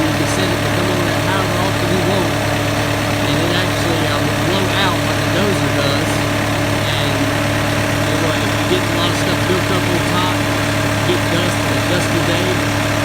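A Cat 299D2 XHP compact track loader's engine runs continuously nearby, a loud, steady droning hum with a voice talking faintly over it.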